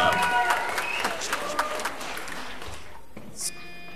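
A KVN comedy league audience applauds to welcome a team, with loud clapping and crowd noise at first that gradually fades, and a voice speaks over it near the end.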